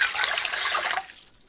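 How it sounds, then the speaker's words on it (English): Warm water poured into the bowl of a KitchenAid Classic Plus stand mixer, a steady bright splashing stream for about a second that then stops abruptly, leaving near silence. "Pour warm water into the bowl,"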